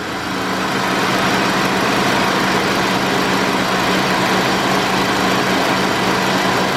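A 2008-2011 Ford Focus engine idles steadily with the air-conditioning compressor running, a continuous loud hum and whir that holds constant throughout with no voices.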